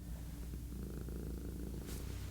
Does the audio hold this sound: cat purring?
yes